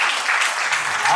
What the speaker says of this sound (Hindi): एक बार अनु जी के लिए जोरदार तालियां होनी चाहिए दोस्तों